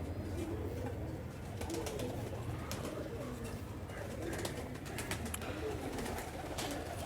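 Pure Ababeel breed high-flyer pigeons at a Karachi loft give soft, low cooing under a steady outdoor hum, with faint rustling and occasional bird calls in the background.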